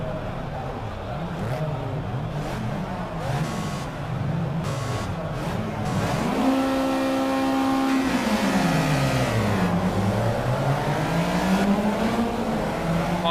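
Race car engines roar at a race start in the Project CARS video game, a loud sustained rising whine of several cars accelerating and shifting gears together, dense and continuous throughout.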